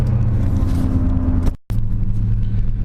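A car drives past a vintage bike show in Charles City, giving a loud, close, steady engine rumble that cuts out briefly and then resumes.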